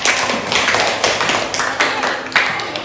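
A classroom of students clapping their hands for their teacher, a short burst of several uneven, fairly close claps and taps lasting a few seconds, with faint voices in the room.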